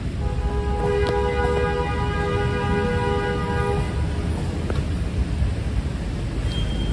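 A New York City subway train at the 72nd Street station rumbles loudly and continuously, with a sustained horn-like tone for several seconds and scattered metallic clanks.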